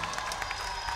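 A crowd applauds a neighborhood dance group at a community event in Villa 31, a short burst of scattered, moderately faint clapping with a few sharper individual claps standing out.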